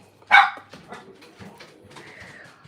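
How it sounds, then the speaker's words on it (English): An excited pet dog barks indoors during a live craft class, one sharp loud bark followed by softer whimpering yips and fainter barks, fairly close in a quiet room. "so please ignore the barking."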